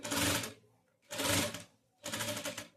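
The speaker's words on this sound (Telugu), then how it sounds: "చూడండి ఇక్కడ వరకే నేను స్టిచ్ చేసుకుంటున్నా, కరెక్ట్ మూల వరకే." Domestic sewing machine stitching the front neck of a blouse, three short bursts of rapid mechanical clatter close by, each about half a second long and separated by brief pauses.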